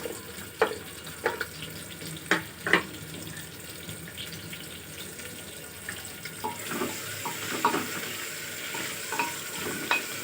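Onions drop into hot oil for a mutton aloo gosht and start frying. Early stirring taps and scrapes give way to a louder, steady sizzle that swells partway through and stays close and continuous.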